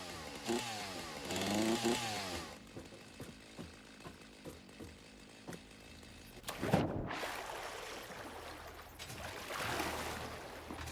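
A chainsaw in the video game Satisfactory revs in short pulsing bursts, followed by scattered clanks, thuds and a sharp burst of noise near the end, moderately loud throughout.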